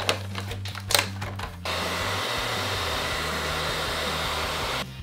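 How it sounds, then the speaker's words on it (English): After a few clicks and handling sounds, a hair dryer switches on nearby to heat and soften a plastic toy, blowing with a steady loud whir for several seconds before cutting off. "I'm gonna go get a hairdryer."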